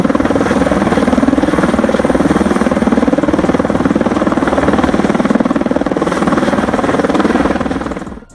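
A helicopter called in to clear heavy accumulated snow makes a loud, close, steady rotor thrum and engine drone throughout, which cuts off sharply at the very end.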